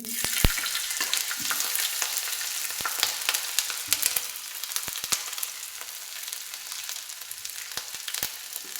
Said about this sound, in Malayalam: ഇതിലേക്ക് ഇഞ്ചിയും വെളുത്തുള്ളിയെല്ലാം കൂടി ഇട്ട് കൊടുക്കാം